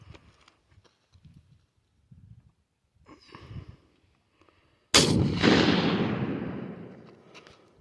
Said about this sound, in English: actually second time shooting my Howdah 20 gauge shotgun pistol